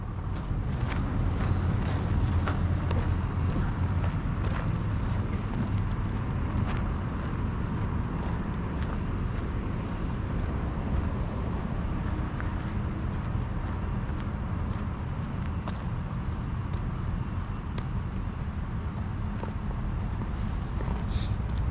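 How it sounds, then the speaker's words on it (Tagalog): Busy road traffic with many cars on a road in Canada, heard as a steady, continuous rumble and wash of passing vehicles with no pauses. "Tingnan, dami sasakyan sa kalsada."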